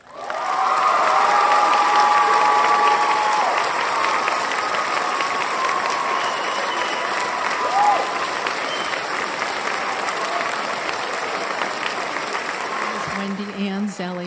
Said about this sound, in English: And now a warm and enthusiastic round of applause for our next speaker